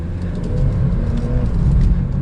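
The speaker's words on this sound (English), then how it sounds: "as far as an acceleration goes, we are up to speed, not even half throttle" A 2022 Audi A3 40 Premium accelerating on the road, heard from inside as a smooth, steady low engine and tyre rumble that builds slightly, with no one talking.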